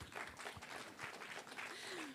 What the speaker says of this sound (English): Another round of applause, folks.